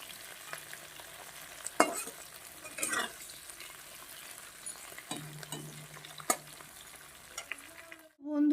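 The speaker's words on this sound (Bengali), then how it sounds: "পেঁয়াজটা ক্যাপসিকামটা আমি একটু হালকা করে ভেজে নিয়েছি" Onion and capsicum fry in oil in a home kitchen with a low, steady sizzle and a few scattered stirring scrapes, close but quiet, ending in a brief louder clatter.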